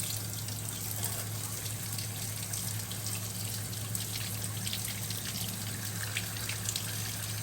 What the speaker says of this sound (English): I am gonna go ahead and start rinsing